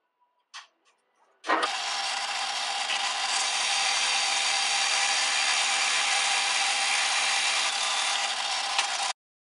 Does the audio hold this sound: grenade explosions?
no